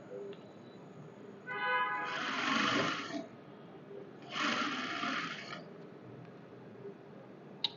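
A sewing machine stitches a salwar with a half-inch seam margin in two short bursts of rapid whirring, each lasting about a second and a half, separated by a quiet pause with faint background noise.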